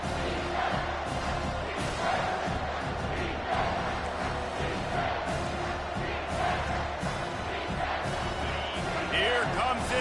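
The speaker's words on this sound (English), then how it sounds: "Here comes this home crowd as the defense tries to get off the field on 3rd down" A home football crowd roars continuously on third down during a Kentucky game, a dense, loud wall of cheering and shouting with swells, and a commentator talking underneath.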